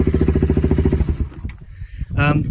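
A Suzuki Marauder motorcycle engine idles with a rapid, even pulsing, then cuts out as it is switched off, and a voice speaks near the end.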